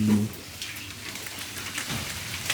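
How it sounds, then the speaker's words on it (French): Heavy rain pours down outside a Japanese ryokan bathroom near Mount Fuji, a steady wash of hiss and patter with a brief low thump at the start, and no voices. "il pleut de ouf"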